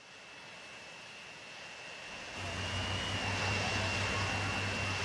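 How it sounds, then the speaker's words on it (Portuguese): An airplane on the blue line in Transport Fever 2 drones steadily with a thin high whine, and a louder, deeper engine rumble swells in about halfway through as it starts moving, with no one talking. "esse avião aqui, galera, provavelmente agora ele já começa a voltar a funcionar"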